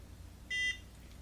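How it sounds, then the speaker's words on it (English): Home skin care tool gives a single short electronic beep to signal one section is finished, clear but quiet over a low background hiss. "Hear the beep? That lets you know you're done the one section."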